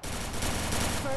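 Rapid gunfire from a Free Fire match rattles loud and close in a short dense burst, filling the moment with continuous shots.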